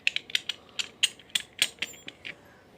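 Small plastic parts of a bike mobile phone holder mount being fitted together, giving a quick series of about a dozen light clicks and ratcheting snaps, close and fairly quiet.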